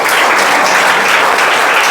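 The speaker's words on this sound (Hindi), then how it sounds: "ताली बजा दो।" Loud, dense applause from a crowd, sustained evenly for the whole moment without pause.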